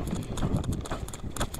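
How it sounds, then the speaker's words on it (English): A horse being run around an arena during a ranch training session, hooves clip-clopping in a quick, steady rhythm at moderate distance over a broad background rumble. "So I'm going to run him around 2 times."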